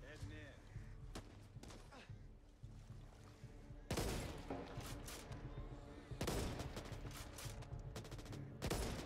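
Gunfire rings out in a co-op shooter game, bursts of loud shots and rapid volleys arriving in clusters over background game sound, with people talking intermittently.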